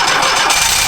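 A 1987 VW camper van engine cranks and catches, settling into a steady mid-pitched running hum, loud and close for about a second.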